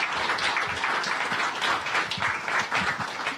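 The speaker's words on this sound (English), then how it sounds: "Can we get a round of applause for the panel" Brief audience applause for a panel discussion on AI, a moderate patter of clapping from a modest crowd that stays fairly even for a few seconds.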